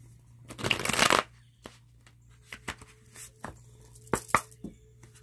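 Tarot cards are shuffled in a quiet room: a dense burst of riffling, then scattered soft taps and flicks, and a second short riffle near the end, all close and faint with no talk.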